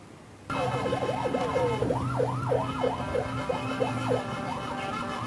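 Fire engine sirens wail loudly as the trucks arrive at a burning two-storey laundry business, rising and falling in repeated sweeping cycles over a steady engine rumble.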